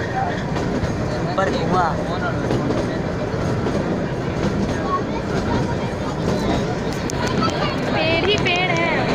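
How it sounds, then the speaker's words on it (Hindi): Passenger train of the Himalayan Queen service rolling along a hill line, its steady rumble and wheel clatter continuous throughout, with people chatting over it and bright squeals near the end. "अभी भी ट्रेन भी दिख रही है ट्रेन दिख रही है"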